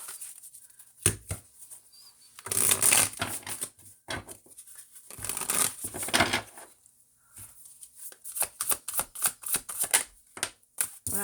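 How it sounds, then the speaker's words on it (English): A deck of tarot cards is shuffled in bursts of quick riffling and flapping, with short pauses and a few sharp taps between the runs. The sound is close and clear. "Am I not shuffling these good?"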